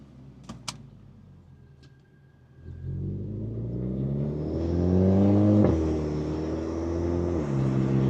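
A Volkswagen Jetta GLI exhaust on a sunset drive, starting with a couple of clicks and a quiet idle before the engine revs up into a loud, rising drone that climbs through the gears and then settles into steady cruising.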